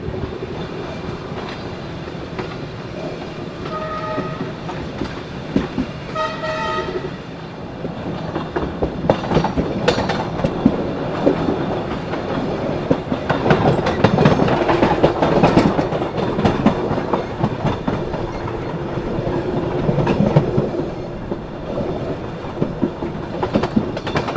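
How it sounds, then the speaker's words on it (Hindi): A train rolls steadily along the rails with rhythmic clattering of wheels, growing louder midway, and a brief horn-like tone near the start, heard from a sleeper coach of the Duronto Express near Howrah Junction. "फिलहाल अपनी ट्रेन हावड़ा जंक्शन के आउटर पे आ चुकी है"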